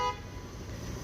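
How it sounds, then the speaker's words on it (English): A car horn gives a brief toot in busy Montréal street traffic at the very start, then fades into the low rumble of the roadway. "This person honked in rather high amounts of frustration to indicate to this person to please move."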